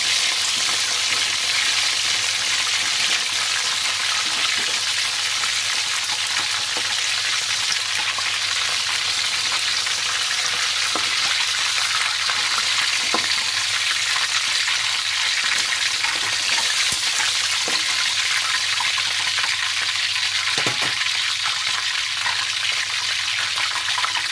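Buffalo chicken wings fry in hot oil with a loud, steady sizzle and crackle that runs unbroken from start to finish, close by, with no voices.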